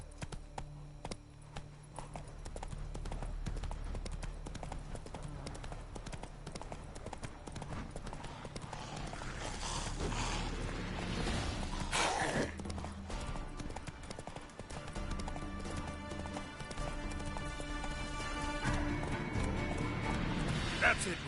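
The horse Roach gallops in The Witcher 3, hooves clip-clopping in a quick steady rhythm throughout, with a whinny and a voice talking over the game sounds.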